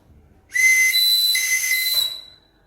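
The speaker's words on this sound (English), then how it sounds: "This is called ambulance whistle." Homemade ambulance whistle made from angled straws and tape, with one big and one small side, blown in a single loud, steady two-tone whistle lasting about one and a half seconds, alone with no talk.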